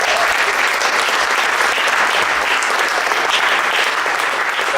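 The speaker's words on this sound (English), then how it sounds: "So please, one more round of applause for that." Dense, steady applause from a festival audience after a jazz band set at a university spring jazz festival, loud and sustained throughout without a break.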